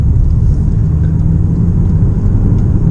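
A seven-year-old Porsche performance car's engine in Sport Plus mode rumbles loudly and deeply close by, a steady heavy low drone with a coarse throbbing texture and no talking.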